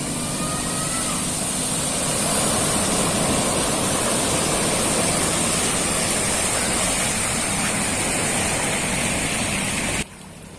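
Seawater from a tidal surge during an eclipse high tide floods in, a loud continuous rushing, churning roar like a waterfall that stays steady for about ten seconds before dropping off abruptly.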